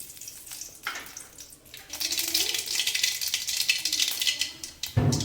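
Mustard seeds crackle in hot oil in a kadai, a faint sputter that swells into a steady bright sizzle with scattered pops and a sharp clatter near the end.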